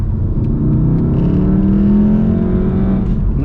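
A Volkswagen Golf R accelerating on the road, engine note climbing smoothly as revs rise, loud and close from the cabin, with no talking.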